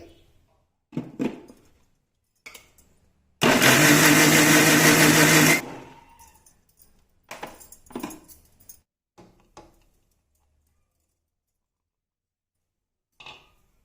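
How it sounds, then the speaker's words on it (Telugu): A mixer grinder roars loudly for about two seconds grinding amla (Indian gooseberry) with water, then winds down, with scattered handling clatter before and after it. "బాగా మెత్తగా అయ్యేటట్టుగా మిక్సీకి వేసుకోవాలి"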